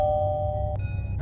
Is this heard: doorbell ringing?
yes